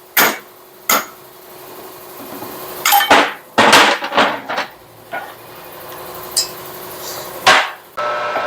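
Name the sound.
hammering out a bushing with an old pin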